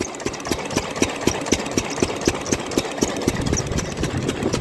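A small irrigation pump engine chugs steadily with a regular, rapid thumping beat, running continuously and fairly loud throughout while watering a mung bean field.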